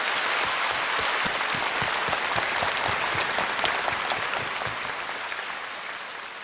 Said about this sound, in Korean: 우리 주님께 감사 박수를 드리죠.